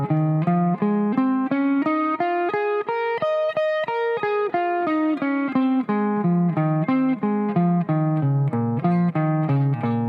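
Guitar picked two notes per string through a minor pentatonic scale, leading with upstrokes in a steady, even stream of single notes climbing then descending, clean and close with no talking.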